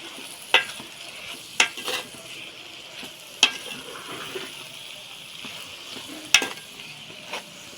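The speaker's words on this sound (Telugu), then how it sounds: "ఇప్పుడు ఇది బాగా కలుపుకోవాలి." Broad bean curry is stirred in a frying pan, with a soft sizzle underneath and a handful of sharp spoon scrapes and knocks against the pan at irregular intervals.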